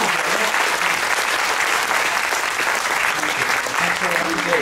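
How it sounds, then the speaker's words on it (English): An audience aboard the cruise ship Independence of the Seas applauds the contestants of a chef's cake-baking challenge, with steady, dense clapping sustained loudly throughout and a faint murmur of voices beneath it. "So applause for Vicky, everybody, and for Darren as well."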